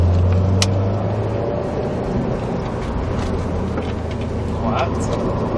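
A Subaru WRX STI on a driving course, its engine rumbling steadily as it gradually picks up speed, while an instructor talks over it from inside the car.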